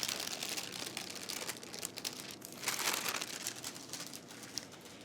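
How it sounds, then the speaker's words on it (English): Parchment paper slowly peeled back from thyme and apricot shortbread dough, giving a close, continuous crinkling and soft tearing rustle for several seconds, swelling briefly midway, with no voices. "And then slowly pull back my parchment, and my top is fairly smooth."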